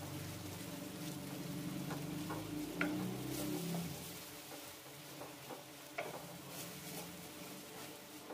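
Stirring San Marino corned tuna into a sauté in a pan for a creamy snack dish, a steady scraping stir over a low sizzle with occasional light ticks of the utensil against the pan, close and without talk.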